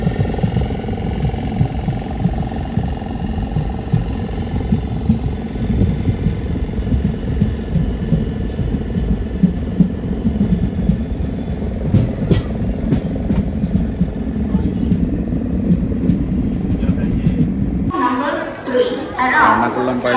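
A running train heading to Ernakulam, Kerala, rumbles steadily with a loud low rattle and occasional clicks, while people chatter nearby, then the noise shifts abruptly near the end.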